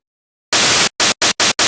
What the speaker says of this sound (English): this preset gonna start with a noise oscillator here with the